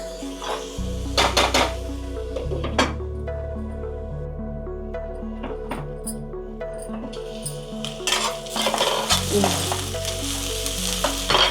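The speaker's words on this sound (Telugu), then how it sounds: "ఆయిల్లో ఇలాగే ఒక ఐదు నిమిషాలు వీటిని మగ్గనిద్దామండి కొంచెం బ్రౌన్ కలర్ వచ్చే వరకు ఇలాగే మగ్గనిచ్చాలి" Mutton mince fries in oil in a metal pan, a loud continuous sizzle broken by spoon scrapes and clanks against the pan, with a low tonal hum running underneath.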